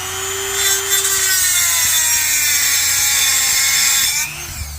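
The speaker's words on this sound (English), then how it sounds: "right now I'm using my little Dremel to cut through" A small Dremel rotary tool grinds through the metal of a strut bar on an Infiniti M45/M35, a steady, close, bright whining cut that holds for about four seconds before dropping off, with no talk.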